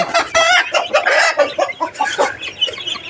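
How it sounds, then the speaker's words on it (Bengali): Loud, agitated clucking and squawking from a native desi hen being caught by hand, in rapid bursts, very close, continuing throughout without pause. "ধরে ফেলেছি এই মুরগিটাকে"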